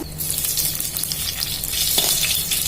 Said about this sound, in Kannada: ಡ್ರೈ ಚಿಲ್ಲಿ ಫ್ರೈ ಮಾಡಿ ಫ್ರೆಂಡ್ಸ್